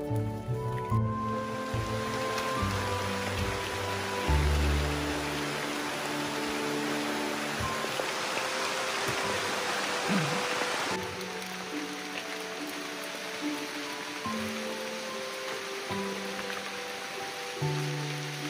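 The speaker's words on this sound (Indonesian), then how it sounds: "Hujan pun kembali turun" Rain falls steadily in a forest in coastal Papua, a constant hiss of drops spread across the whole stretch, joined by a layer of tonal sound that runs throughout.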